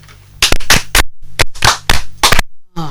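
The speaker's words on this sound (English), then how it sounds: "Can we clap like serious?" Students in a classroom clap together in several short, sharp bursts, each a quick cluster of loud close hand claps separated by brief pauses, with a voice starting at the end.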